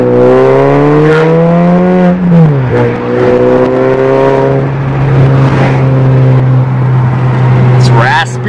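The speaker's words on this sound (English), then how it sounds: "I'm gonna try to get some backfire now on camera." A VW MK6 GLI with an aftermarket exhaust revs loudly and raspily nearby, its engine note dipping and holding with small crackles near the end, while people talk over it.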